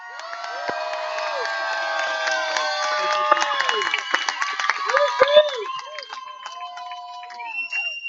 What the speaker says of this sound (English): A big applause for Miriam